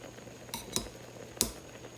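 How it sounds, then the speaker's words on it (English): A metal spoon strainer knocks against a pot while skimming foam off simmering mixed fruit marmalade, making three or four crisp clinks spread over two seconds, close and quiet, with no voice. "Removing your foam just with a spoon strainer"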